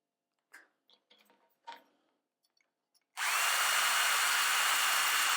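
A power drill spins a brass tube chucked in it while a hand file works the tube's end. A few light taps and clicks come first, then the drill starts abruptly and runs loud and steady to the end.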